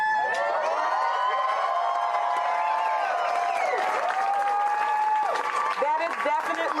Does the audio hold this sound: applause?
yes